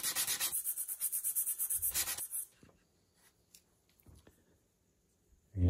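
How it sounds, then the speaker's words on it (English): Rhythmic back-and-forth scratchy rubbing of sandpaper on a birch wood miter joint with wet wood glue for a couple of seconds, close and loud, then quiet with a few small knocks. "you're just creating a little bit of wood dust, sanding dust, and it should mix in with that wet glue"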